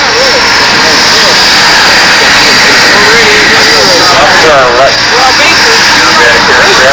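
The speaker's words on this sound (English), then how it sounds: "And it just sits there idling like a real jet." A full-scale-style RC twin-jet scale aerobatic model, a U.S. Navy jet, idles on the ground with a loud, steady turbine whine and roar that holds close for the whole stretch, while people talk over it.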